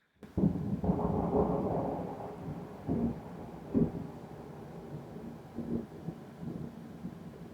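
Thunder from a lightning storm rolls in low, distant rumbles, swelling and fading several times over steady rain and wind noise, with no voices.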